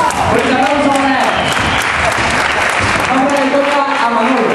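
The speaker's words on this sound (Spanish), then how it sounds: "¡Fuerte aplauso a Manuel!" Audience at a Christmas gala in Dos Torres, Córdoba, applauding for a man named Manuel, loud sustained clapping mixed with cheers and overlapping voices in a hall.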